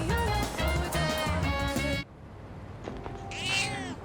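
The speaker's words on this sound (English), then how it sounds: "Mew. This cat looks very weak." A weak, hungry-sounding cat meows in Persona 3 Reload, heard after game music cuts out; a faint, thin mew rises near the end over quiet background.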